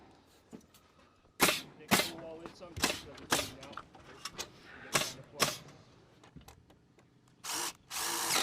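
A pneumatic nail gun fires nails through wall framing during a house addition build, sharp loud single shots spaced irregularly with occasional quick pairs, over faint background talk and site noise.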